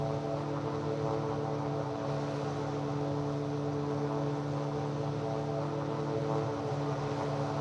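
Steady droning engine and propeller of a de Havilland Tiger Moth biplane in flight in a flight simulator, a constant even hum with no breaks, heard from inside the cockpit.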